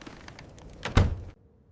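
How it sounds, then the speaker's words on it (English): A front door is opened in a quiet room, giving a single soft thunk with a brief rustle of movement, then near silence. "Someone is opening my front door."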